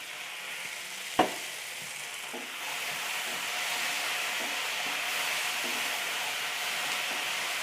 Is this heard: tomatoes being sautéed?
yes